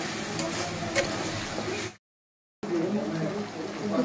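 Spices with sugar and salt sautéing in hot oil in a pan give a steady, close sizzle that cuts out for a moment of silence, then resumes at the same level.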